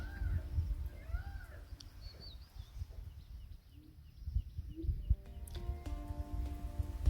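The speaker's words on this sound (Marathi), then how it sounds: "मोरांचा जो म्याव म्यावचा आवाज आहे खूपच कानांना एक" A peacock gives a couple of loud, wailing, cat-like cries early on, then fainter calls drift in over steady outdoor background noise on a trek to Chaulher Fort in the Sahyadri hills.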